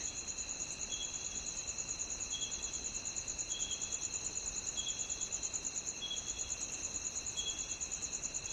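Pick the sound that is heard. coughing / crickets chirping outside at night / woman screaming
crickets chirping outside at night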